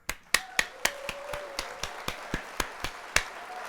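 Sparse applause sound effect played during a livestream: a dozen or so separate, evenly spaced sharp claps, fairly close and moderate in level, with a faint tonal hum running beneath.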